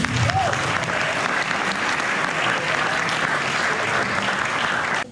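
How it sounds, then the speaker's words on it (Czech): Audience at a community event in a Czech village giving sustained, dense applause, many hands clapping evenly and loudly throughout before cutting off, with a brief voice at the start. "tak je podpořte potleskem, prosím"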